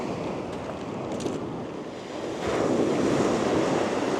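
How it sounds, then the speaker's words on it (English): Sea waves wash onto an empty beach at dawn, a close, continuous surf roar mixed with wind buffeting. The surf swells louder partway through. "Don't you just love the sound of the sea first thing in the morning?"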